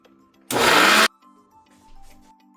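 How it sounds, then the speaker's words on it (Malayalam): A kitchen mixer grinder blending grated coconut with mustard seeds for pachadi, a loud, harsh whirring burst lasting about half a second and then stopping, with a faint background hum around it. "ഇതിലോട്ട് കടു ഇട്ട് കൊടുത്തതിന് ശേഷം വീണ്ടും ഒന്നും കൂടെ ഒന്ന് ചെറുതായിട്ടൊന്ന് മിക്സി കറക്കിയെടുക്കുക"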